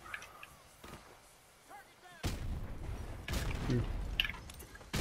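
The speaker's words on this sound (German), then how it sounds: "da kommt Granate geflogen." A grenade goes off in Call of Duty Modern Warfare remastered multiplayer: after a quieter stretch with faint talk, a sudden loud blast hits, followed by a second crack and lingering rumble.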